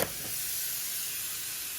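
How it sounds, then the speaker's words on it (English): Ground beef sizzles in a hot pan on a La Nordica wood cook stove, a steady broadband hiss that holds evenly from the moment the meat lands, close and moderately loud with no talk over it. "you'll probably hear this sizzle because my pan is hot"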